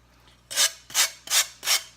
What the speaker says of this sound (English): sand both the edges of the glass as well as those corners